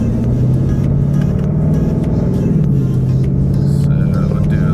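A Ford Mustang's engine pulls hard in second gear toward 5,000 RPM, a loud, close, continuous droning growl that climbs slightly in pitch and holds steady with no break.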